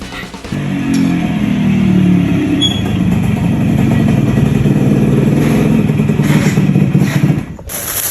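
A motorcycle engine revs loudly and close for several seconds in a sustained, throaty roar with fluctuating pitch, then cuts off abruptly near the end.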